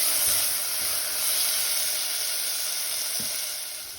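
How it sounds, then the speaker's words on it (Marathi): Chopped tomatoes fry in a pan with onion for a Goan ivy gourd and coconut bhaji, giving a loud, steady hissing sizzle with a couple of faint utensil taps. "मातशें टमाट मातशें भाजून हाडया."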